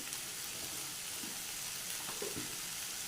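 Potato masala with onions is being sautéed in a pan, giving a faint, steady sizzle with a few soft stirring scrapes.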